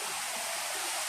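River water rushes in a steady, hissing wash at Liliw, Laguna, Philippines, continuous and close, with no other sounds.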